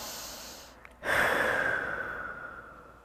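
One person breathes deeply during a runner's cool-down stretch: a long, soft exhale tapers off, then a short pause, then a louder, airy breath that rushes in close to the mic and slowly fades.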